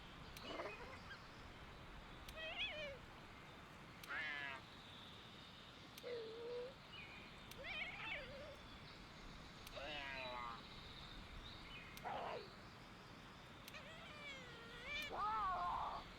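Palico cats meowing in Monster Hunter Wilds, a handful of short, bright cat calls scattered across the stretch over steady game ambience, some louder and closer than others.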